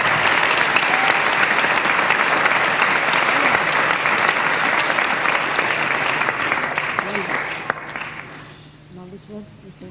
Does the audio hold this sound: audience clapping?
yes